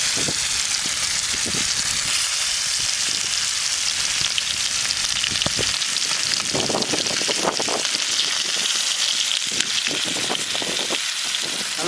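Ooli fish fries in plenty of oil on a hot dosa griddle in a village kitchen, a dense, steady sizzle with crackling pops throughout.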